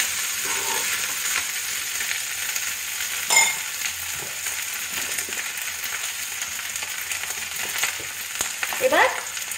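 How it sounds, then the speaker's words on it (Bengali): Cooked rice fries in ghee in a pan with a continuous close sizzle, broken by occasional scrapes and clinks of a spoon stirring against the pan. "এটা যা ভাজা ভাজাই করছি ভাত ভাজার মতো, তার জন্য একটুখানি আমি ঘি দিয়ে দিলাম"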